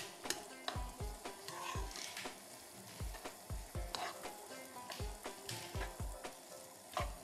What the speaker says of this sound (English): the butter is melting and the pound cake is melting too